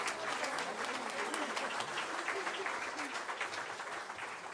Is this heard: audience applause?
yes